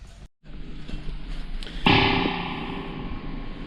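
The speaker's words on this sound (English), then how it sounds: "So you can hear the reverb's working" A sharp crash at the start of a dry guitar-like tone, then a bright, splashy spring reverb swell that rings on with a metallic wash.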